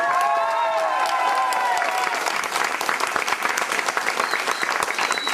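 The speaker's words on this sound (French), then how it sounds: "que je vous demande d'applaudir très fort" Audience applause breaks out for Monsieur Darmatig at a school charity event at a lycée, steady and dense clapping from a large crowd with some cheering, starting under fading tonal sounds and holding strong to the end.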